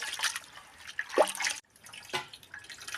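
Water running and dripping in a kitchen sink while chicken gizzard and liver are rinsed with vinegar, with short splashy bursts broken by a brief pause, close by and with no talk.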